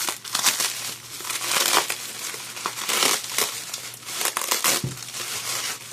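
Canon camera packaging being cut open, close crinkling and crunching of plastic and cardboard in irregular bursts, with a low steady hum underneath.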